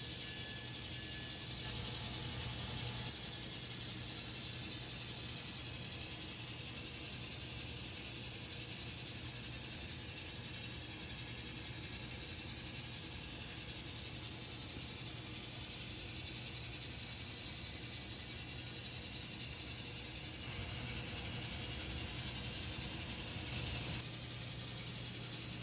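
N scale model train engines shove loaded tank cars through track switches on a layout, giving a faint, continuous motor hum and soft rumble that stays steady throughout, with no talking.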